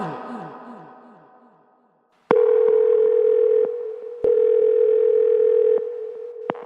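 Close, clean telephone dial tone, a steady hum that holds for long stretches and breaks off briefly twice, after a decaying ringing note that fades out at the start; no voices.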